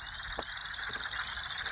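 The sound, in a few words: chorus frog calling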